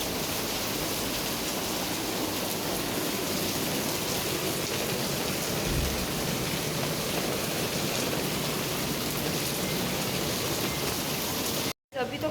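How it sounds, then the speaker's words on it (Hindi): Heavy rain pours down steadily in a dense, unbroken roar close by, with one very brief cut near the end. "अभी तो काफ़ी बारिश है।"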